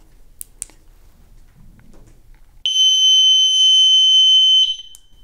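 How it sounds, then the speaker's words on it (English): A FoxFury T.E.D.D. unit gives one sharp, steady electronic beep lasting about two seconds when its programming switch is pressed, coming after a few faint clicks of handling. "you'll just hit the programming switch once more, hear that beep"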